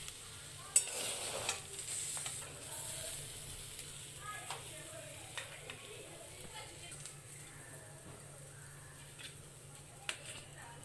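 Flat beans lightly frying in a pan make a soft, low sizzle, with sporadic scrapes and taps of a spatula stirring them, quiet and close.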